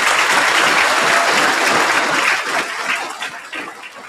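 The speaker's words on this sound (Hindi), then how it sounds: "एक बार जोरदार ताली सर की बात की" A roomful of students applauds a speaker at an exam coaching academy event. Loud, dense clapping fills the first few seconds, then thins out and grows patchier as it fades.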